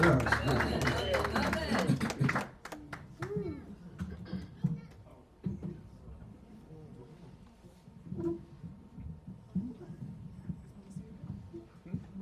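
Church congregation at a community service of the Sacred African Way breaks into loud, dense applause for the first couple of seconds, then it thins into scattered claps and murmuring voices that continue under a quieter hum.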